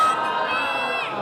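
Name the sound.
crowd chanting slogans at a religious gathering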